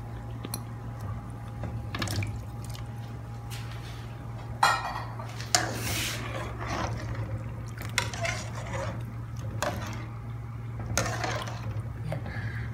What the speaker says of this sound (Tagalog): Tapos, itong ating patatas. Ihuhulog na natin.